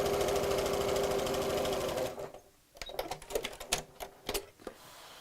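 A sewing machine stitches ribbon onto a fabric heart in a fast, steady whir for about two seconds, then stops, leaving a few soft clicks and handling sounds.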